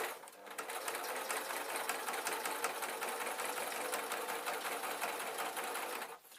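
A sewing machine runs steadily, stitching a fabric peg bag in one continuous close, loud burst that stops abruptly near the end.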